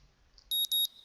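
Two sharp electronic alarm-clock beeps from a Katawa Shoujo game scene, loud and close, each about a fifth of a second with a brief gap between, over near silence.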